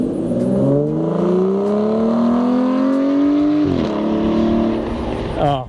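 Engine of a 2015 Aston Martin Vanquish revving loudly up close, pitch climbing smoothly in a long sweep, dropping briefly and rising again, then ending in a sharp final blip.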